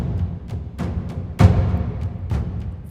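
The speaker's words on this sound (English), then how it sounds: "It's like the cinematic drums." Cinematic drums from the Action Strikes Kontakt library play in a mix as dense, booming low hits with a rhythmic pulse and a sharp accented crash near the middle, loud and full throughout.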